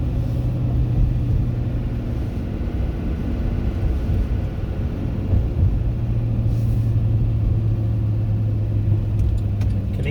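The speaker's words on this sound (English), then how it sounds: "We're going to do a little drive down the subdivision here." A car drives through a residential subdivision in Delta Junction, Alaska, giving a steady, close engine and road rumble with a low tonal hum that runs unbroken for the whole stretch, with no talking.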